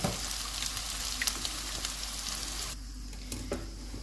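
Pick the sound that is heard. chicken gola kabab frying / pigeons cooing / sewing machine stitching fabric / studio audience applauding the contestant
chicken gola kabab frying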